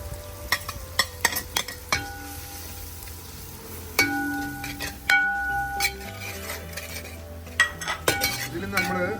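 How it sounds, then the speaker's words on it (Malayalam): Onions and curry powders stirred in a hot pan outdoors for a chicken sausage roast, with a steady sizzle under repeated metal clinks and scrapes of a spoon against the pan. "ഇതിൽ നമ്മൾ ആവശ്യത്തിനുള്ള പൊടികളും കാര്യങ്ങളൊക്കെ ചേർത്ത് നന്നായിട്ട് ഇളക്കി കൊടുക്കുന്നുണ്ട്."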